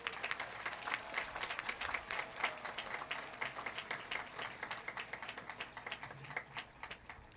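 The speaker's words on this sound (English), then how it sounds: "Give them a round of applause again." Audience applause for the graduating class at a high school ceremony, many hands clapping in a brisk, crackling patter that stays fairly even for several seconds, with no talking over it.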